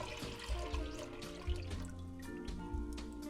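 Non-alcoholic apple cider pours into a pot on the stove over low heat, a continuous gurgling liquid stream with small splashy bumps, close by and without talk.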